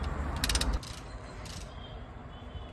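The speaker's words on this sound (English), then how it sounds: "So you ratchet back the brake piston just like this" A ratcheting tool clicks as it pushes back the brake caliper piston on a Dacia Sandero during a brake pad replacement, with a short burst of close, rapid mechanical clicks followed by quieter creaking and ratchet movement.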